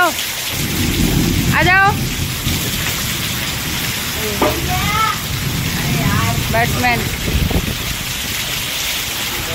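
Heavy rain pours steadily on an outdoor cricket game in the hills while thunder rumbles low and long, with excited voices calling out over the downpour.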